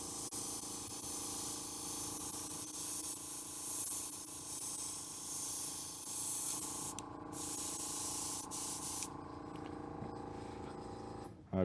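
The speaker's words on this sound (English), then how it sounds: "So I want the air pressure from the airbrush to hold the doily in place." An airbrush sprays watercolor over a doily stencil on paper, making a continuous close, soft hiss that carries on steadily with a few brief breaks near the end and no talk.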